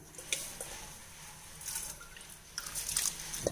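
Soaked millet and split moong dal are tipped into water in a pressure cooker for pongal, giving a few soft splashes and drips in short separate bursts, fairly quiet and close.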